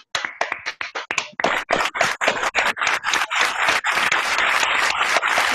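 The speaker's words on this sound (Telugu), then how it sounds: "గట్టిగా కొట్టాలి పిల్లలు." Children clap hard and fast, starting with scattered quick slaps and building into a dense, continuous patter of many hands. It is close and loud and runs without talk.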